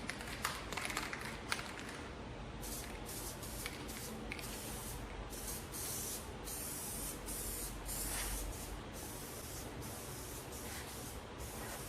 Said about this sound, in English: Spray a light even coat on one surface.